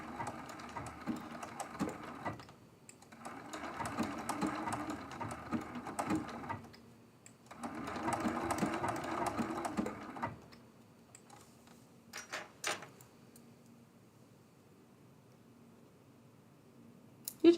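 A home sewing machine stitches a quilt-as-you-go quilt block in three steady mechanical runs with short pauses between them, followed by a few scattered clicks and taps from the machine in a quiet room.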